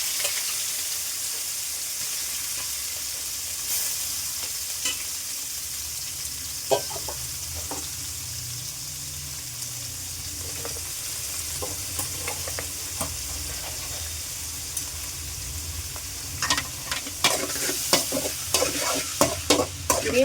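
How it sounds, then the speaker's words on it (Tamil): Chicken shallow frying in hot oil in a kadai, a continuous close sizzle with scattered spatters, growing busier with clattering stirring near the end. "ஒரு கடாயில் வந்துட்டு எண்ணெய் போட்டு கொஞ்சம் எண்ணெய் சூடானதும் சிக்கன் வந்துட்டு நார்மலாக ஃப்ரை பண்ணாமல் ஷாலோ ஃப்ரை மாதிரி பண்ணி"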